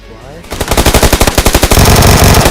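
Rapid automatic gunfire in the battle royale game PUBG Lite, a loud close burst of regular shots, then denser overlapping fire toward the end.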